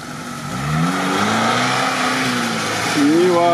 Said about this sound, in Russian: Так, Нива полный сток с флагом едет.